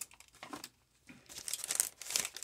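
A mailed package is sliced open from the top, giving soft plastic crinkling that builds into louder tearing and rustling, close and with no talk.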